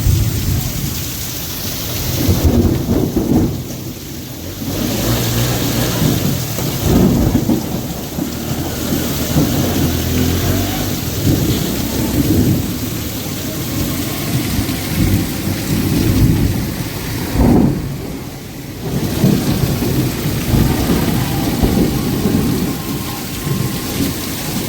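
Heavy village downpour roars steadily with deep thunder rumbling through it, loud and close, swelling in a few surges over a long stretch, with no clear voices.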